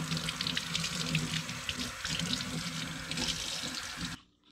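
Water runs steadily from a kitchen tap into a pot for cooking, a constant close splashing hiss that cuts off abruptly near the end.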